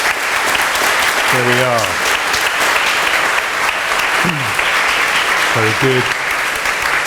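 Warm applause from a debate audience welcoming the panelists fills the room continuously, loud and even, while someone speaks a few words over the clapping.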